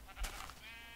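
A Minecraft sheep gives a single short wavering bleat, fairly faint against a low background hum, lasting under a second.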